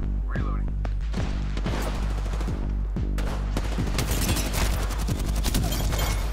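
Rapid bursts of gunfire from the video game Apex Legends, with repeated sharp shots and automatic fire packed densely over a steady background, loud and continuous throughout.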